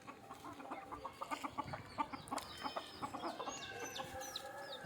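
Native country chickens cluck repeatedly in short, irregular bursts, close and fairly clear, with a few higher calls over a soft outdoor background.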